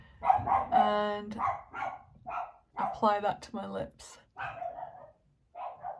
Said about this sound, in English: if you can hear my dog going nuts in the background